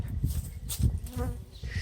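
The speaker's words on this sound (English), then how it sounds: "So hanging on the back of it is the swarm." A steady, dense buzzing of a honeybee swarm hanging on a papier-mâché swarm trap, droning continuously up close with fluctuating intensity.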